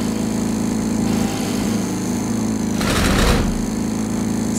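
Riding lawnmower engine in the video game Kill It With Fire, idling with a steady low hum and faint high whine throughout, rising briefly into a louder rough surge near the end.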